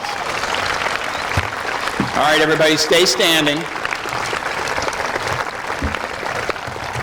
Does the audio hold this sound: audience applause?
yes